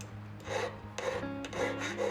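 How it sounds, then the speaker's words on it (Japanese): A metal hand file shapes the stone setting of a lapis lazuli pendant top, giving short, close rasping strokes in an uneven rhythm, quiet and without speech. "石枠全体もヤスリで成形します。"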